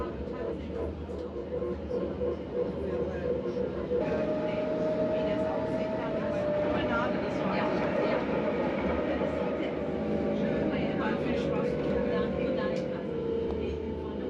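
The Belgian Coastal Tram rolls steadily along its tracks by the seaside, with a continuous low rumble and rail hum through the whole stretch and a faint rising whine partway through.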